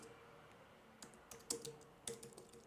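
A computer keyboard is typed on softly and close by, with scattered individual keystrokes and a few sharper clicks in an otherwise quiet room.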